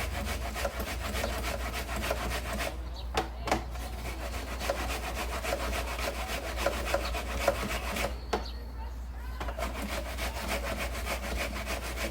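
An onion rubbed against a grater in a home kitchen, a steady rasping scrape repeating in quick strokes for the whole stretch, broken by two brief pauses, with no talk.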